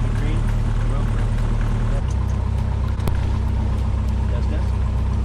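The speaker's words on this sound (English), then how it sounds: "First 30 seconds after you start an engine." Light aircraft engine running steadily just after start-up at North Las Vegas Airport, a loud continuous droning hum with a constant throb heard from inside the cabin, its pitch shifting slightly partway through.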